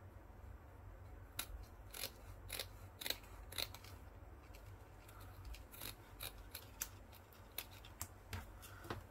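Scissors snip through paper for a Tim Holtz Elizabeth Craft Designs journal page, a steady series of crisp close cuts spaced irregularly over a quiet room-tone background.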